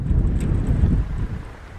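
Wind gusts roar across an open canyon rim above the Snake River, a loud low rumbling buffet against the microphone that eases slightly toward the end.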